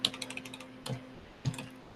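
Typing on a computer keyboard: a quick, close run of light key clicks with a few heavier taps, fairly quiet and without talk.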